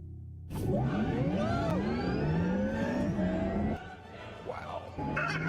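A Porsche sports car accelerates away at a car gathering, its engine revving up through rising gear pulls, loud and close before easing off, then climbing again.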